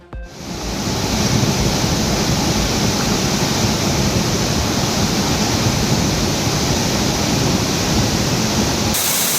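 Courtallam waterfalls in heavy flood during the southwest monsoon roar with a dense, loud, unbroken rush of falling water that swells in at the start and stays steady throughout.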